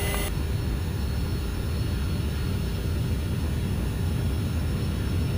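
Airliner engines spooling up for a takeoff roll on runway 24, a loud steady broadband roar heard from the cockpit, continuous throughout with no speech.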